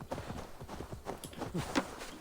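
Video game horse hooves from Assassin's Creed Valhalla, a quick rhythmic series of clip-clop footfalls heard close and clear, with no talking over them.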